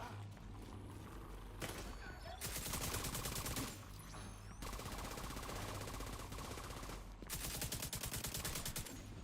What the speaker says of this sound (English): Shooting through the fence.